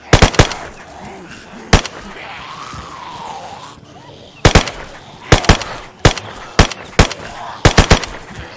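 Gunfire in the survival video game DayZ: sharp, loud single shots, a couple early and then a rapid cluster of repeated cracks, over a low background of game ambience.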